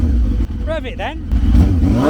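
Triumph motorcycle engine at a bike night outside the Triumph factory, throttle blipped in a couple of quick rising revs over a steady idle, close and loud, with people talking nearby.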